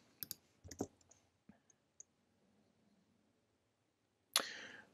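A computer mouse gives a few sharp, quiet clicks spaced irregularly across a near-silent room, with one louder, longer click-like burst toward the end.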